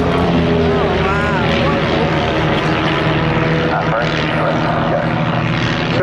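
Display aircraft at the Southport Airshow roar overhead, loud and continuous propeller and engine noise throughout as a pair breaks off to reposition for opposition passes, with commentary talking over it.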